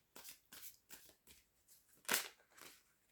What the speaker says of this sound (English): I've said that as I've been shuffling the cards